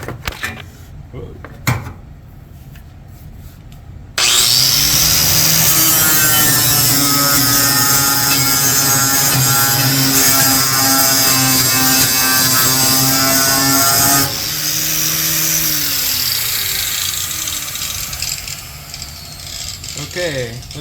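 An angle grinder, either a corded Bauer or an 18V brushless Ryobi, spins up and cuts into a clamped workpiece with a loud, sustained whine for about ten seconds. It then eases off and winds down, after a few bumps and clatter at the start.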